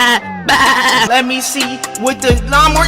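A voice imitates a goat's bleat, wavering and nasal with a tremulous pitch, close and loud, mixed in with his ordinary speech.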